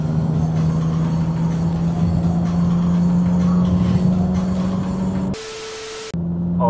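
A big-turbo 1.4 TSI VW Scirocco pulls hard at full throttle in fifth gear, a loud steady engine drone with strong road and wind roar, dropping briefly near the end before resuming.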